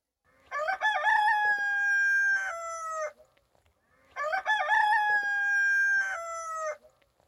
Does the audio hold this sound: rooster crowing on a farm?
yes